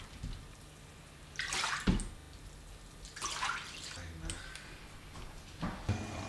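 A screen print stencil is washed in water, with splashing bursts and gushes of liquid recurring every couple of seconds over a quiet background hiss.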